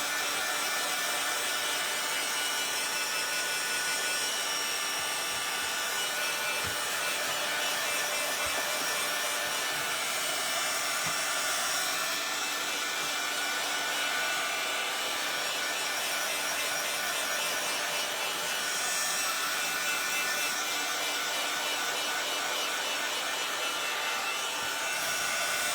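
A steady, broad blowing hiss from a small craft heat dryer runs without pause while making a paper collage, with faint scrapes and rubbing clicks now and then beneath it.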